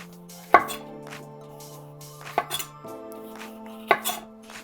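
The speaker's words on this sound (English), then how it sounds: "For the peppers, I'm just going with a simple slice" A knife cuts through bell peppers and onion on a cutting board with three distinct chopping knocks spaced a second or more apart. Sustained musical tones play underneath.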